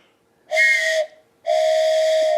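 A train whistle at a railroad museum sounds two loud, steady blasts, a short one then a longer sustained one, clear and alone.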